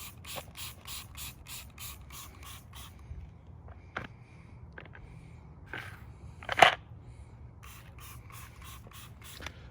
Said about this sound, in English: Just try to spray